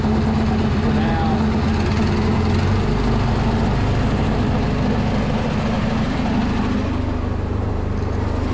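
Gas-powered air compressor driven by a Predator 212 engine runs loud and steady up close, its low rumble shifting in tone toward the end as the load changes.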